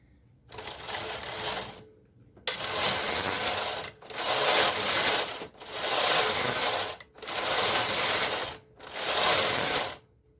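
A vintage knitting machine runs its carriage back and forth across the rows, six rough rasping passes with brief pauses between them, loud and close with no talking.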